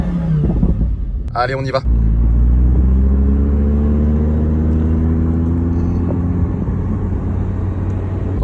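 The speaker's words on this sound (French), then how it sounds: "Regardez ce que ça donne en mode dynamique, la sonorité, les valves qui s'ouvrent." An Audi R8 Spyder in dynamic mode with its exhaust valves open revs up from a deep rumble into a rising, loud engine roar that holds steady. Someone speaks briefly just before the acceleration.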